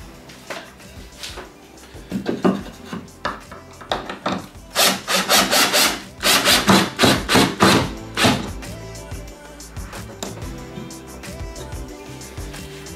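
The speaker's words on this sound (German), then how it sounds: "So, jetzt schneiden wir sie einmal Distanzstücke zu." A handsaw cuts wooden spacer pieces for a model railway backdrop, starting with slow uneven strokes, then a quick run of loud rhythmic back-and-forth rasps before fading to a few final strokes and quiet, close by.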